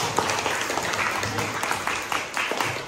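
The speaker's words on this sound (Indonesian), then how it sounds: "tepuk tangan untuk kita semuanya." A classroom or lecture audience claps together for everyone present, a steady patter of many hands running for about three seconds with no speech over it.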